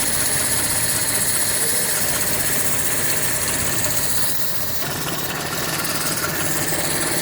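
A car engine idles steadily while its ignition timing is being adjusted, a continuous, even running hum with slight knocking and vibration, close and loud throughout, with no talking.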